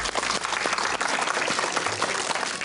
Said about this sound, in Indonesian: Kasih tepuk tangan dong buat